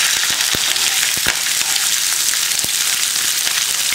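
Onion, green chili and curry leaves frying in hot oil with mustard seeds for a carrot beans poriyal, a steady loud sizzle with scattered sharp pops and crackles throughout.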